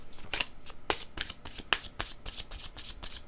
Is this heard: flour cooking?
no